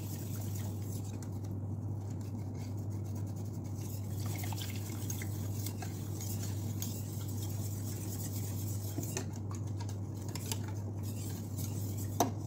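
Corn flour being stirred to dissolve in a pot for milk pudding, giving soft faint scraping and light clinks of a utensil over a steady low background hum.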